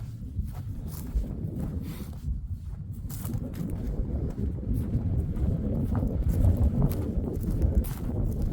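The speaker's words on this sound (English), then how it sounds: "Windy." Steady wind blowing outdoors, a continuous low rumbling gust buffeting the microphone that builds slightly toward the end, with soft intermittent thumps and no talk.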